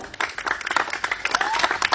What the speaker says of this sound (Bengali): একবার জোরে করতালি দেওয়া হবে এই উদ্বোধনের সময়।